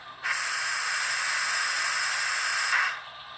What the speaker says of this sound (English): 20 is the safety valve.